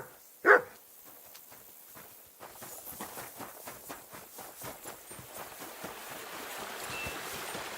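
A single sharp dog bark sounds early in Kingdom Come: Deliverance 2, set in a medieval town, followed by rhythmic clip-clop hoofbeats and footsteps over a faint street ambience.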